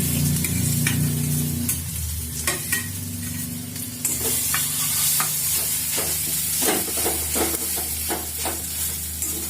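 Paneer pieces shallow-frying in hot oil for garlic paneer paratha, a steady crackling sizzle with frequent scraping stirs and spatula clicks, close and alone throughout.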